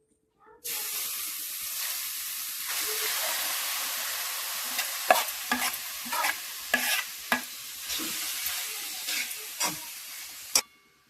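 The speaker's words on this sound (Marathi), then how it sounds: "याला 5-10 मिनिट असं छान असं परतायचं" Grated carrot stirred and fried in ghee in a kadhai for carrot halwa: a steady broadband sizzle that starts abruptly and holds, broken by sharp scraping knocks of the spoon against the pan that grow frequent toward the end.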